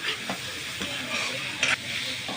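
Beetroot cutlet mixture sizzles steadily in a pan, a continuous hissing fry with soft stirring scrapes and a brief louder spurt of sizzle near the end.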